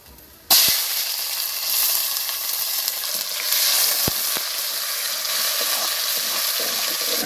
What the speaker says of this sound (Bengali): পেঁয়াজ দেবো ফোড়ানে,